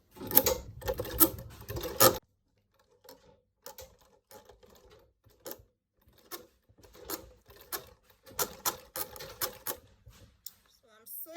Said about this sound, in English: So you take it to the sewing machine using your black thread at the top.